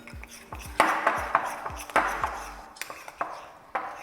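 A spoon stirs pumpkin halwa mixture in a pot, scraping and clinking against the metal in a quick uneven rhythm of repeated knocks, close and moderately loud.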